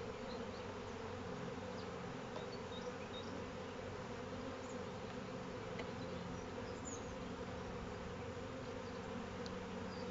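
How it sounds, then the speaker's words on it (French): Black honey bees in a crowded hive during frame inspection, a dense, steady buzzing hum that stays even and close throughout, with no talk. "On voit qu'il y a une sacrée population dans cette ruche"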